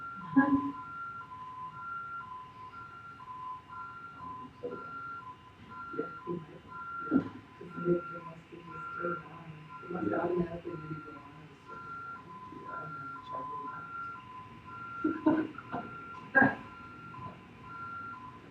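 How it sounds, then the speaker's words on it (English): Alarm in a township meeting room beeping in a steady repeating two-tone pattern throughout, fairly faint and distant, with people talking and murmuring over it. "Set off the alarm?"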